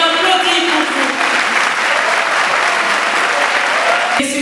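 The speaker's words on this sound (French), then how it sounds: "on applaudit pour vous" Loud, dense applause from a large audience fills the space continuously, with a steady roar of many hands clapping close by, ending abruptly at the close.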